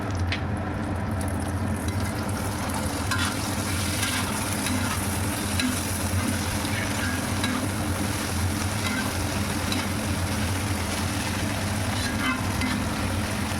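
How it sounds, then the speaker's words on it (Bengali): Vegetables stir-fry with tomato sauce for pasta in a continuous dense, even sizzle over a low rumbling hum, with faint stirring scrapes throughout. "টমেটো সস দিয়ে বন্ধুরা আবারও নেড়ে চেড়ে সামান্য একটু ভেজে নিয়ে সব সবজির সঙ্গে ভালোভাবে নেড়ে চেড়ে মিশিয়ে দেব"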